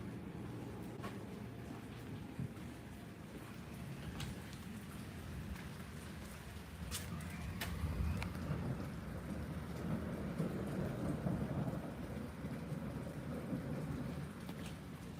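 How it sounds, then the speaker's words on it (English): Steady rain pours down with a constant hiss, with occasional cracks and low rumbles of thunder from a storm. "They're getting rained on right now."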